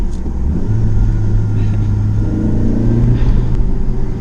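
Turbocharged 1.8T engine in a B6 Audi A4 with a Stage 1+ tune, heard from inside on twisty roads: a steady, loud, droning rumble that rises slightly in pitch as it pulls.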